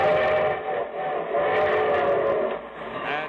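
A steam train whistle sounds in long, loud sustained blasts over rumbling rail noise, opening a vintage radio show with no voices over it.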